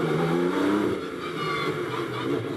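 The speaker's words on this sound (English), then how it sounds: "listen to the car accelerate after the 50k board" A GT race car engine drones loudly and steadily as it accelerates out of the pit lane at Misano, its pitch climbing, with no voices present.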